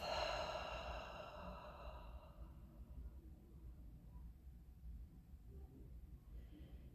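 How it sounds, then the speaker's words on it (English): A slow, soft breath is let out through the mouth during a calming breathing exercise. The long airy exhale fades over about two seconds, followed by quiet room stillness. "let that breath exhale through your mouth"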